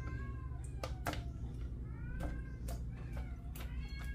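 Several cats meow repeatedly, rising and falling cries spaced a second or so apart, heard fairly close over a constant low rumbling background.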